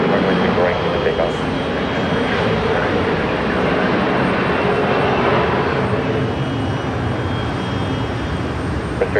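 An airliner takes off from runway 34 right at Seattle-Tacoma International Airport, its engines making a continuous, loud broadband roar that holds steady throughout, with no clear peaks or pauses.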